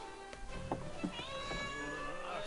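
A pet tomcat meows several times in quick succession, drawn-out wavering cries close by and fairly loud against soft room noise, with a brief voice mixed in.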